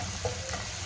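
Chopped onions frying gently over a medium flame for a keema samosa filling, making a quiet, steady sizzle with a faint stir-like scrape near the start.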